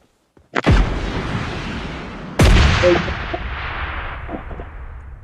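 Two heavy rocket blasts from the mobile game PUBG Mobile Lite, each a sharp crack followed by a long rumbling decay, the second louder, with faint game sounds after.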